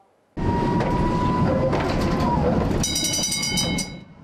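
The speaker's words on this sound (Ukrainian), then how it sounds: "І ще один шостий трамвай вийшов на маршрут." A new 16-metre low-floor VinWay tram rolls past in a steady loud rumble with wheel and rail noise, and a high whine rises near the end before the sound fades.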